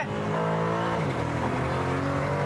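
A powerful Aston Martin DB12 sports car engine (680 PS) revs and accelerates loudly, its pitch dropping at a gear change and then climbing again, heard up close.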